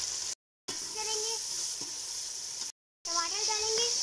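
Ginger garlic paste sizzling with lightly browned onions in a pan for a red lobiya curry, a steady broadband hiss interrupted by two short silent gaps, with faint tonal scraping near the middle and end.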